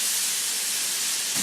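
Diced shallot hitting a hot frying pan with a small piece of clarified butter, giving a steady, bright, loud sizzle that holds evenly throughout the short moment.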